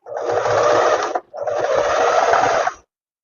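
A sewing machine stitching the lining of a tailored vest with a square neckline, two steady whirring runs of needle hum with a short pause between them, close and clear with no talk.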